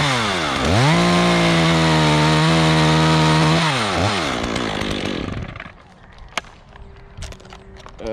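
Chainsaw close by, cutting a face cut in a tree branch while rigging over a house: a loud, high revving whine that bogs and rises in pitch, then drops off to idle and stops, leaving faint outdoor clatter.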